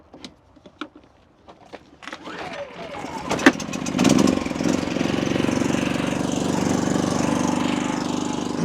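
A 6,000 watt portable generator pulled to start: a few sharp tugs and sputters give way to a loud, steady engine drone that settles into a continuous running roar close by.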